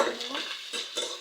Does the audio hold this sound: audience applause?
no